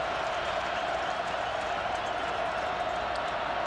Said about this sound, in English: And the crowd knows it as they begin to make some noise.